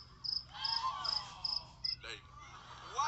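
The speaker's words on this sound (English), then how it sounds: "Give the crickets their moment." Crickets chirp in short, evenly spaced bursts, a thin high trill that repeats about five times and then stops, with a brief whooshing sound after it.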